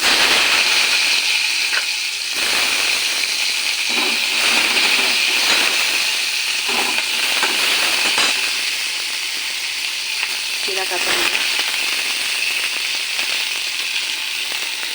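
Onions fry in a kadai alongside already-fried potato and eggplant for a fish curry, giving a loud, constant close-up sizzle and hiss that runs unbroken throughout, with faint stirring and no talk.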